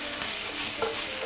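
Food stir-fried with ketchup in a wok gives a short burst of steady, close sizzling with a faint stirring scrape.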